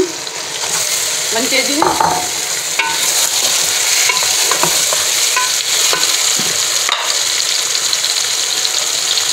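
Chicken fries loudly in a pan with ginger-garlic paste, giving a dense, constant sizzle while it is stirred and scraped. A brief voice speaks over the frying.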